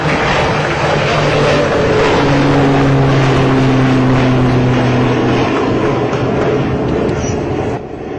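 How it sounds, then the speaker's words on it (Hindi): A trainer aircraft's turboprop engine drones loudly and steadily nearby, a propeller whine rising and falling in pitch, with no talking. "ये टर्बोप्रॉप इंजन जो है"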